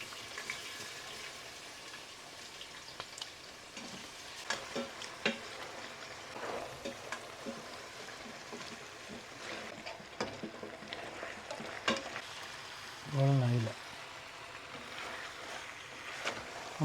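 Chopped onion, cardamom, cinnamon bark and cloves sizzle softly in hot oil with a faint, continuous crackle and scattered pops, plus one brief low clunk near the end.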